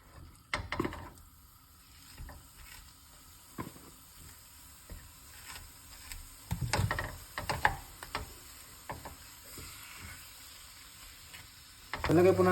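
Ground meat frying and being stirred in a pan for lasagna sauce: a steady close sizzle broken by irregular scraping stirs and clattering knocks against the pan.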